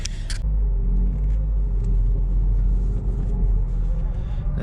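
A 2004 Citroen Xsara with about 45,000 miles pulls away and drives, a heavy low engine and road rumble holding steady and close after a brief clatter at the start.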